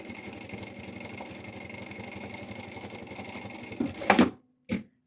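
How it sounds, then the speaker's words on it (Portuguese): A sewing machine runs steadily stitching along the lower edge of a passport holder pocket, a fast even rattling hum close by, ending with a couple of louder clunks and a pause. "vamos costurar em baixo, à largura do calcador"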